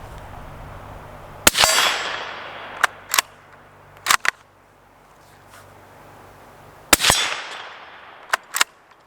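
A Ruger American Scout bolt-action rifle fires at a small steel plate: a handful of sharp, loud shots spaced several seconds apart, each trailed by a bright metallic ring from the struck target and a brief echoing tail.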